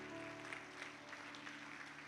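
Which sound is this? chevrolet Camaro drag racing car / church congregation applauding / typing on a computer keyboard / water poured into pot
church congregation applauding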